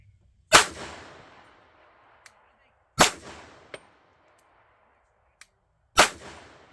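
A SIG 229 9mm pistol firing 1776 ammunition, three sharp, loud gunshots spaced a few seconds apart, each with a short ringing decay, plus faint metallic clicks between shots.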